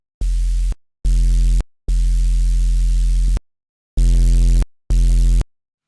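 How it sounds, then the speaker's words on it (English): Crunchy Serum 2 synth bass built from a distorted sine wave and white noise, played as five loud, gritty sustained notes of varying length separated by clean silences. "And then you have a crunchy bass sound."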